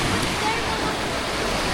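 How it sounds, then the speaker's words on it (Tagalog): Steady broadband wash of surf and wind on the sea at Pagudpud, a continuous roar of fairly gentle waves with no distinct breaks, recorded close outdoors in drizzle. "Dito guys, hindi masyadong malakas yung alon."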